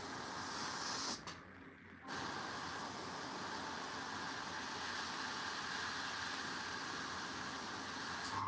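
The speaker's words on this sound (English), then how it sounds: "so I will try to spray again" An aerosol spray can hisses steadily onto a Warhammer miniature, a close continuous blast broken by one short pause before spraying resumes.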